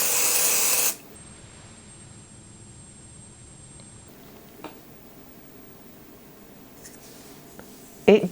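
Jet Set Invisible Powder Spray gives a short, loud, breathy hiss of aerosol right at the start, then cuts off into quiet room tone with a few faint clicks.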